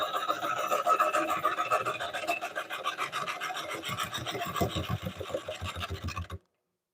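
Oak bowl spinning on a woodworking lathe as gouges cut it, making a steady, close rasping shave that turns into rhythmic scraping strokes before stopping abruptly.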